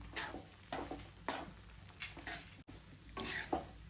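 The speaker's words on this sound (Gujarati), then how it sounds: "આપણે લોટને ધીમા તાપે શેકી લઈશું બરાબર ઘી સાથે મિક્સ કરી દઈશું" A spoon scrapes through flour roasting in ghee over low heat for winter gundarpak, about half a dozen separate strokes against the pan with a soft sizzle between them, heard up close.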